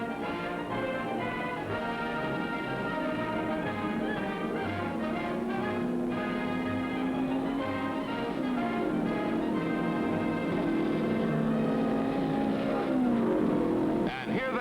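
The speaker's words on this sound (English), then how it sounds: "Past the main grandstands and on into the southwest turn they roll, a parade of America's finest, fastest racing cars and drivers." Vintage 1949 Indianapolis 500 racing cars rolling past the main grandstands toward the southwest turn, a steady loud engine drone with shifting pitch that persists throughout, heard under other layered sound.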